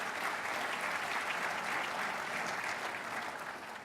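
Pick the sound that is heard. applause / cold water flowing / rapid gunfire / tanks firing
applause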